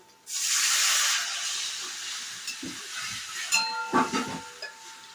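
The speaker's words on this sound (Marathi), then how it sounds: "याच्यामध्ये पाणी ओतून घ्यायचंय" A loud hiss bursts out as water hits a hot pan of roasted drumsticks, easing into a steady sizzle with a few clinks of a utensil.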